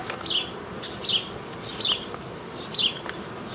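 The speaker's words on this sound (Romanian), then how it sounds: "Putem să spunem că acesta este deja un roi." Honeybees forming a swarm from a nucleus colony after the queen has mated, buzzing at the hive in four short, moderately close bursts of bright wing hum spaced about a second apart over a quiet background.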